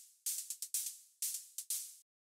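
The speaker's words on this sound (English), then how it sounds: "So what we have is basically sort of like an open hi-hat and a closed hi-hat." Electronic drum hits of closed and open hi-hats, the open one layered with a shaker, in an eclectic dance track: a crisp, bright pattern of short ticks and longer hissing strokes, played alone before a brief silence.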